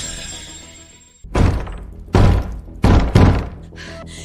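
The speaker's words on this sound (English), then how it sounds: "Break the doors if you must." Heavy wooden doors are pounded by guards trying to break them down, landing as several loud, booming thuds and cracking impacts in close succession, with a brief quieter stretch before the first blow.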